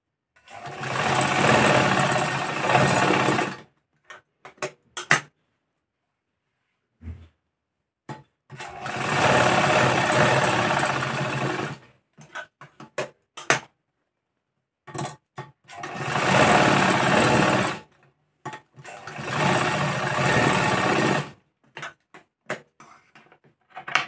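A sewing machine joins the sleeve of a blouse in four loud, close bursts of rapid stitching, separated by silent pauses filled with small handling clicks.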